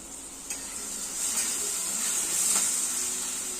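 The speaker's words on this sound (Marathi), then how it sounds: "खूप छान फ्राय झाली आपली हिरवी मिरची वाटलेली कांदा जिरं" Ground green chilli, onion and cumin frying in a pan, a steady close sizzle and hiss with a few faint stirring scrapes, no voices.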